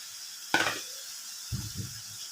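Oil spooned from a plate into a hot pan while cooking kusa gobhi, giving a sudden loud sizzling burst that fades fast, then a few soft low clinks and knocks of the spoon against the pan.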